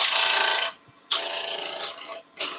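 Bowl gouge roughing out a wooden thimble blank on a lathe: loud, steady broadband cutting noise in two sustained passes with a brief pause between, then a short third burst, no talk.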